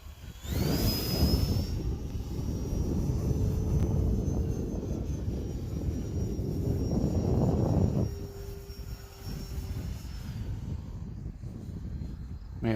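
An E-flite Turbo Timber Evolution 1.5m RC plane with a new propeller flies overhead, its electric motor whining steadily at a high pitch over outdoor wind rumble and fading somewhat after a few seconds.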